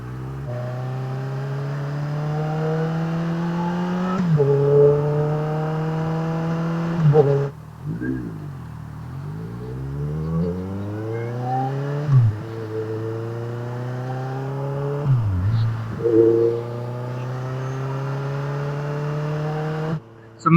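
Motorcycle engine running, picked up by a cheap lavalier mic, with a steady droning hum that repeatedly rises and falls through revs and gear changes, loud and close with no talk.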